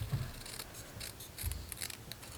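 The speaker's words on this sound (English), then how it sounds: "I love the paper snips" Paper snips cut through paper for card-making: a few crisp, quiet snipping strokes close by, with no voices.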